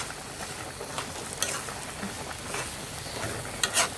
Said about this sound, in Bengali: এখন আমি একটু লাড়ে দিতেছি।